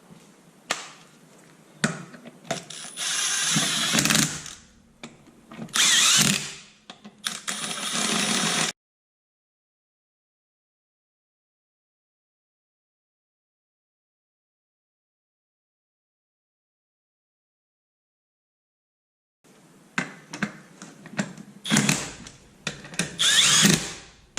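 An impact wrench or power tool drives lug nuts as truck wheels go back on after a shock replacement, loud bursts of whirring and rattling in several runs, then a long silence before more bursts.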